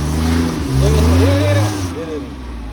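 A car engine revs with a low, rising and falling roar that swells over about two seconds, while several people talk and shout nearby.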